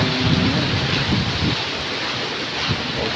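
Heavy rain pours steadily on a mountain, a dense continuous hiss with low rumbles that suggest thunder, loud and close throughout with no talking.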